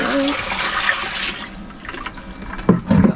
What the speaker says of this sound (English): now we're testing that the bilge pump works